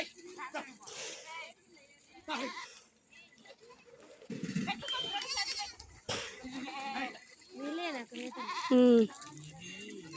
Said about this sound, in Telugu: ఈ మేకలన్నిటికీ ఇలా నీళ్ళు కొడుతూ ఉంటే అవైతే వాటర్ తాగుతాయి